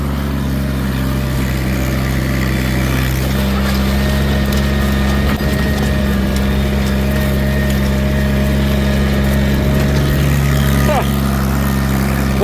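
Tractor pulling a plow through a field at a steam and gas engine society plow day, a steady loud low engine drone running continuously with little change, some faint background voices.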